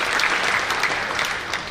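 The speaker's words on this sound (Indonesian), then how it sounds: "Sekali lagi dong tepuk tangan untuk Pak Jansen" Short burst of a crowd applauding at a network-business seminar, dense and loud clapping filling the whole moment without talk.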